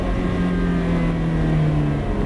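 A Ferrari F430 on a race track during a driving course lets out a loud, close, sustained engine drone with a steady tone that rises slightly, with no voices.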